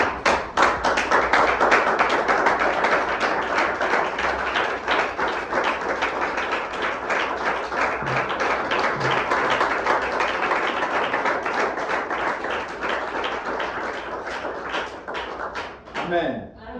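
A church congregation claps steadily and cheers in praise of Jesus, with dense rhythmic hand claps and shouting voices filling the space continuously and loudly until a brief drop near the end.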